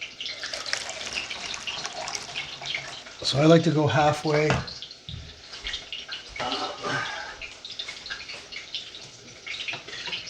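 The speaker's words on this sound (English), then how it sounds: "We're going to wash out the cans here with this hot water and add it to the sauce." Hot water pours and splashes into empty tomato cans being rinsed, with uneven sloshing bursts and gurgles, while a person talks over it.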